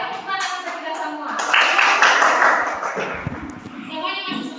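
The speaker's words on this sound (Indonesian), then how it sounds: "Tepuk tangan untuk kita semua." Children clap together in a primary school classroom, a dense burst of applause that swells in the middle and fades, with young voices chattering around it.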